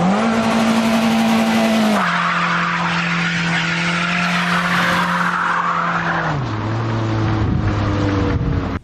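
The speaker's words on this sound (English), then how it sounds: "A quick reverse to neutral drop for science." A Toyota Corolla's engine roars loudly as tires squeal in a long, sustained screech during a drop from reverse into neutral, the pitch dropping in steps, close and continuous.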